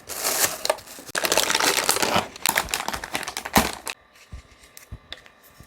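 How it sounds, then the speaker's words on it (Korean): Plastic packing being crinkled and pulled away from an ASUS Prime Radeon RX 9060 XT graphics card box, a loud, close, continuous rustling and crumpling that drops to quiet scattered handling taps near the end. "비닐 패킹이 꽤 꼼꼼하게 되어 있네요."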